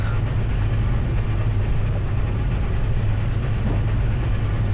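A Southern Pacific GS-4 Daylight 4-8-4 steam locomotive in Train Simulator 2020 keeps up a loud, steady rumble with a heavy low drone and faint wheel clatter. It is unbroken and alone, with no talk.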